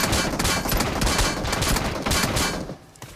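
Gunfire in the mobile game BGMI, a dense run of rapid shots in quick bursts, loud and close, with a sharp drop-off near the end.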